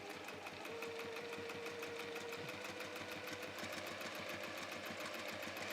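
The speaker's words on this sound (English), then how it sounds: "we're going to sew that with our 1/4 inch seam, top to bottom" A sewing machine runs steadily, stitching a quarter-inch seam top to bottom through a reversible quilt-as-you-go block, a continuous whirring hum that holds through the whole stretch with no talk over it.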